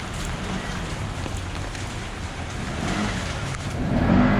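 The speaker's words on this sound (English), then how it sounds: "Just got lots of rain" Heavy typhoon rain pours down in the streets of Macau, a dense, steady hiss close by, while a vehicle's rumble swells near the end.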